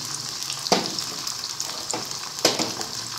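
Potatoes fry with spices in a pan for aloo biryani under a steady close hiss, broken by a few sharp spatula scrapes and clacks; moderately loud, with no voices.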